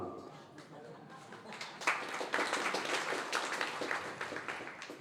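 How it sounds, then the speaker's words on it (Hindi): Clapping from a seated audience at a religious discourse rises and swells into a dense, steady round of applause, with some voices murmuring beneath it. "आप लोगों ने ताली बजा दी"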